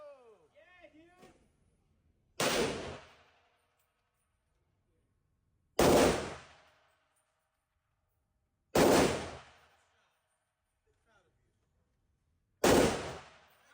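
Firearm shots at a Las Vegas machine gun shooting range ring out as four single loud blasts, spaced a few seconds apart, each with a quick decay into silence, with a little talk at the start.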